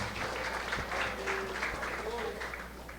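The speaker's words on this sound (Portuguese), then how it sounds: "Vamos aplaudir o Senhor Jesus Cristo" A church congregation applauding together during a worship service, a steady wash of clapping hands held at an even level for a few seconds with a faint murmur of voices underneath.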